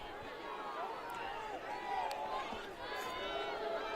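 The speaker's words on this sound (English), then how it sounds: "Crowd is loud and stomping." A loud crowd at a Rhode Island high school Division 1 football game between La Salle and Barnstable, roaring and stomping steadily throughout, swelling midway, with a commentator's voice running over it.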